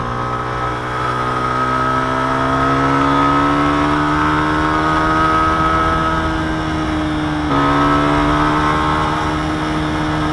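A rented 150cc motorcycle in Chiang Mai, Thailand, revs and accelerates with a loud, close, steady engine drone that climbs in pitch, drops briefly at a gear change, then climbs again.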